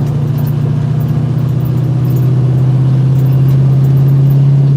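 A 1968 Ford Mustang engine pulls steadily in first gear, a loud, close, even low drone that holds constant throughout with no voices over it.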